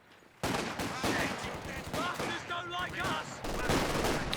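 Rifle and machine-gun fire crackles through a Company of Heroes 2 battle, dense overlapping shots and bursts starting abruptly and continuing loudly with battlefield noise throughout.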